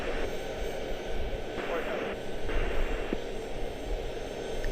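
A fixed-wing aircraft at Charlotte-Douglas International Airport produces a steady, fairly distant engine roar under radio-like static, with a voice talking over it.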